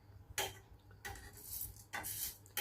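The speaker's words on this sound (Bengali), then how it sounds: "এখন নেড়ে চেড়ে ভাজতে থাকবো।" Mung dal being stirred and fried in a pan, with three bursts of bright scraping and rattling from the spoon against the metal, set apart by quieter pauses, close by and fairly soft.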